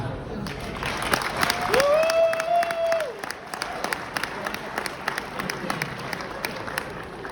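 Applause from the audience at a Gatineau business awards speech rises briefly and loudly, then gives way to scattered clapping while a voice speaks.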